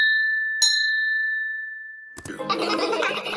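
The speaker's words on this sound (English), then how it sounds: "Then Grandpa Pig tells Peppa to ring the bell." A ship's bell, used as an audiobook sound effect, rings once with a bright clang and a long fading tone, then splashing water and a boat engine rush in.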